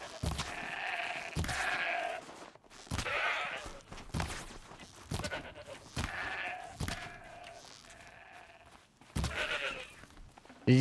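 Goat bleats in a video game, several wavering calls repeating at intervals across the stretch, moderately loud with short pauses between them and no talk over them.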